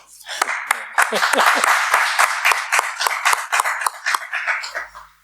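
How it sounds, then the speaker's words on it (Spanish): An audience at a talk about the start of regional autonomy breaks into applause. Distinct claps come first and then swell into a full, steady round before fading out near the end. "Un aplauso, por favor."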